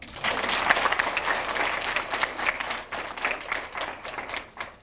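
An elementary school holiday show audience applauds, fairly distant and moderate in level, with individual claps audible in the dense patter as it tapers and becomes more ragged toward the end.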